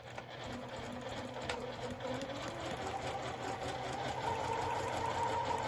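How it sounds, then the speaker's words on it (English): A sewing machine stitches along a marked seam line at a short stitch length of about 1.8 while foundation paper piecing, a steady, continuous whirring hum that runs close and even without pause. "we're going to stitch along the line between 1 and 2, trying to stay on the line"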